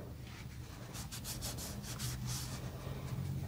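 A hand works oil into a micarta knife handle on a santoku kitchen knife, producing soft, quiet rubbing strokes in a loose rhythm, close and faint against low background hum.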